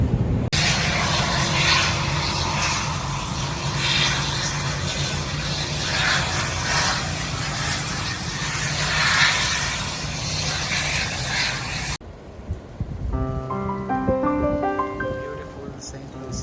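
Loud, steady aircraft engine drone on the apron at Saint Lucia's small airport, continuous and close, with a brief melodic chime tone at the end.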